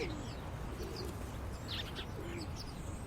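Birds calling outdoors, a few soft coos and scattered high chirps spread across a steady low background noise, faint and somewhat distant.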